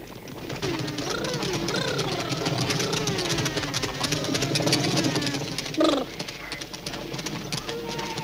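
A motorcycle engine idles and runs steadily at mid pitch for several seconds, with a bird-like warble over it and a brief clatter near the end.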